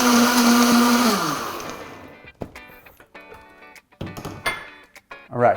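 A blender runs loud and steady, whirring a turmeric golden milk smoothie with ice, then spins down and stops, followed by a few knocks and clatters as the jar is handled.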